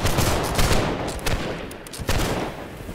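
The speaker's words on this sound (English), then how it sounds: "Nice shooting, my good sirs." Musket volleys in a Holdfast: Nations At War line battle, several loud overlapping bursts of black-powder fire with rolling tails, alone without voices.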